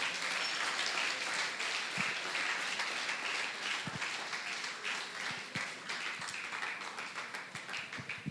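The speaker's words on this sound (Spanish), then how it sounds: "Dale un aplauso al que vive." Churchgoers applauding during a Spanish-language sermon, continuous clapping from a congregation, fairly quiet and roomy, with a few sharper close claps and taps standing out over the wash.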